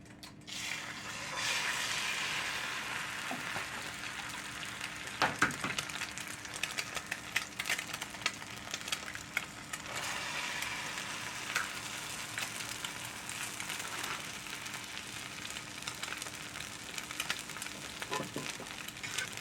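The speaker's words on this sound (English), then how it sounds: "let's get a couple of eggs going" Eggs fry in a skillet with a steady, close sizzle and crackle that runs throughout, broken by occasional small clicks and taps from a utensil against the pan.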